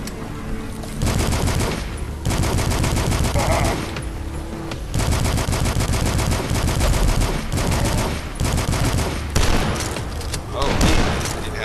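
Double shotgun fire in the retro-style video game DUSK: repeated heavy blasts and booms that come in bursts over continuous loud game music and action sound.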